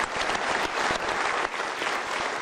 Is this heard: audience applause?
yes